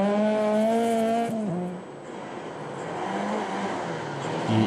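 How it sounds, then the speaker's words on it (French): A powerful rally car of nearly 300 horsepower races on a rally stage, its engine note high and strained before dropping as it passes, followed by a broad rushing roar of tires and engine fading into steady noise. "cette voiture très puissante, près de 300 chevaux, prend la tête du rallye"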